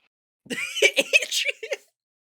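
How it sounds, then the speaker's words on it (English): A man coughs several times in quick succession, short throaty bursts close to the microphone, almost like a stifled laugh, then silence. "you coughed and said it all."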